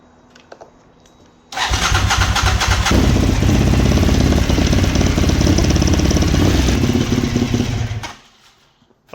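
A neglected Suzuki TL1000R motorcycle's engine cranks and catches, then runs loudly and roughly for several seconds before cutting out abruptly into quiet.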